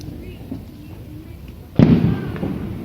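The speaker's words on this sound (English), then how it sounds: "as you can hear, there is loads of fireworks going off" Fireworks go off on bonfire night, a low background rumble of distant bangs and then a sudden louder burst near the end.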